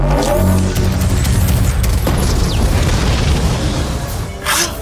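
A Doctor Who audio drama effect of a spaceship fleet firing its weapons: a dense, loud rumbling roar with booming blasts and sweeping whooshes, continuous throughout and easing slightly near the end.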